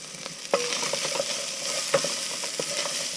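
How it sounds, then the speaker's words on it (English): Chilies and spring onions frying in a pan for chicken ramen cooked outdoors at the back of a van: a steady close sizzle, broken by a few sharp scrapes and knocks of stirring. "just fry these off slightly, just so they're not as raw"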